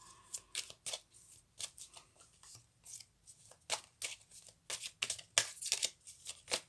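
Tarot cards shuffled by hand, a quick run of soft papery riffles and slaps repeating in bursts, close and fairly quiet, with no talking.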